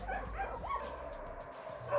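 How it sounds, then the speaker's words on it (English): Street dogs at a large rescue shelter outside Kiev, Ukraine, bark and yip in a continuous noisy chorus, with whimpers mixed in and no speech. "Mashka's home is Gostomel Shelter, some 30 kilometers outside of Ukraine's capital, Kiev, home to some 700 street dogs"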